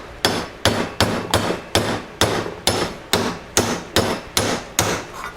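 A hammer strikes about a dozen times in a steady, even rhythm, each blow sharp and close with a short ring.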